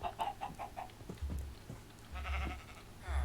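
Sheep in the Minecraft video game bleating several times in short, wavering calls, close and fairly clear, with a few soft game sounds between them.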